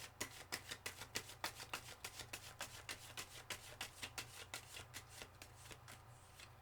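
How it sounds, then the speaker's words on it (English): Tarot cards riffle and slap in a quick, even rhythm of crisp bursts, close and fairly quiet, with no talking. "have a little quick shuffle"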